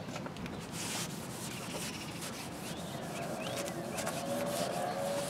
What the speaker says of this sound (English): we're going to use a wet rag to clean it off